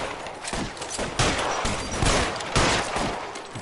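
Rapid gunfire from firearms in the video game L.A. Noire, a dense fusillade of loud bursts with several sharp, heavy shots landing close together over a few seconds.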